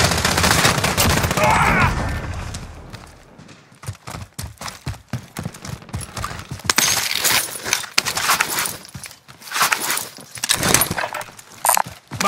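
Rapid bursts of gunfire in the video game Call of Duty Warzone, a loud opening blast followed by dense, repeated sharp shots and volleys that continue close and harsh throughout, with no talking.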